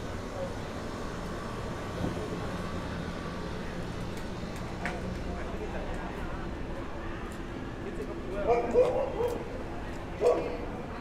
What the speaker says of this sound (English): Even the dog's happy to come out.